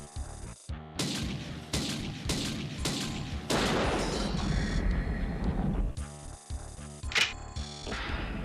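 Bursts of video game gunfire ring out as an enemy is shot in a System Shock game, several loud rapid shots with mechanical clatter and a constant electronic hum underneath, no voices.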